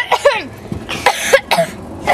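A person coughs several times in quick, harsh bursts close to the microphone, with a short gasp or throat sound between them.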